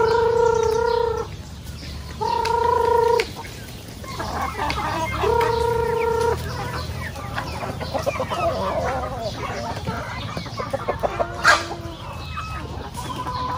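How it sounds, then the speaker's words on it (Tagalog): Several hens for sale cluck and squawk in repeated bursts, close by at a poultry market, with background market chatter and a rooster-like call cutting through. "madami siya mga manok dito na binibenta din"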